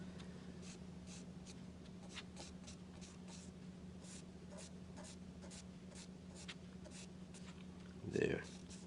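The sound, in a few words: pencil shading a backlit drawing on paper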